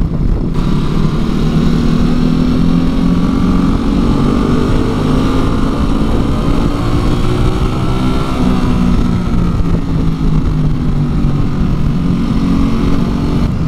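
Ducati Multistrada V2S motorcycle engine revving under way, a loud continuous drone whose pitch rises and falls smoothly, with wind noise and no talk.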